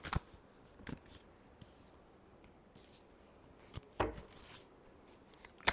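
A deck of tarot cards shuffled by hand in a quiet room, soft intermittent riffles and slaps in short bursts with pauses between, faint and close, no talk.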